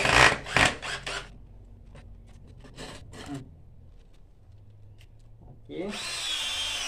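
A power drill drives a screw into the leg of a living-room chair made from a tyre. Its steady whine rises near the end, after a voice speaks over a few scattered knocks and handling sounds.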